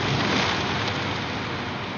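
A water splash sound effect pitched down with added reverb makes a deep, steady rumbling wash like heavy rain or distant thunder. It stays broad and loud for two seconds with no distinct impacts or voices.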